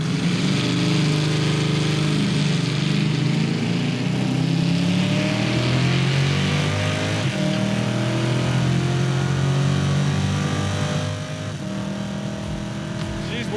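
Chevy Nova drag car engine accelerating hard down the strip, pitch climbing in repeated surges through gear changes, loud and continuous before easing near the end, with talk over it.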